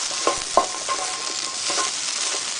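Browned butternut squash being stirred in a frying pan, a steady close sizzle with a few sharp scraping knocks of the spoon early on, no voices.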